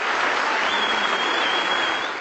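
Applause from a crowd at a special operations police graduation demonstration, a dense, steady wash of clapping that holds loud and even throughout.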